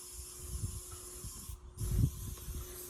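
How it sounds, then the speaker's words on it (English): A can sprays clear finish coat onto a wooden farmhouse table in short soft hissing bursts, one stronger puff near the end, quiet and close with no talking. "So just give it a good spray with your finish."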